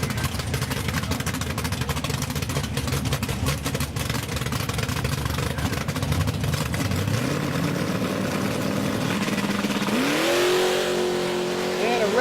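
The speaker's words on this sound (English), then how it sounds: "Next pair up, Brad Vinson in the near lane, going up against James Garrett in the red Mustang on the far side" Ford Mustangs drag race at a Big Block Ford event, the engines roaring loud and steady and rising in pitch as they pull away, while an announcer talks over the track noise.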